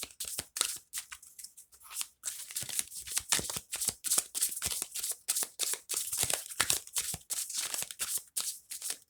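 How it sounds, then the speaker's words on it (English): Tarot cards are shuffled close up, giving a quiet run of quick riffling and sliding bursts in an uneven, busy rhythm with short gaps between them and no talk. "I hope the shuffling sound isn't too loud."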